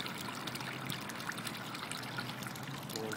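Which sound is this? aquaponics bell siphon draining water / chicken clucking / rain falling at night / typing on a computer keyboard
aquaponics bell siphon draining water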